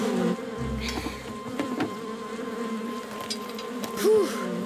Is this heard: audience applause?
no